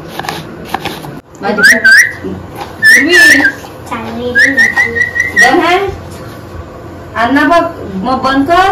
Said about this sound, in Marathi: हा पोपट इथे.